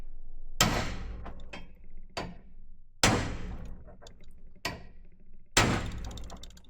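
Five sharp, heavy metallic strikes of hammering on a fire-damaged 1969 Ford Escort Mk1 van body land at irregular intervals, each ringing briefly before fading into quiet.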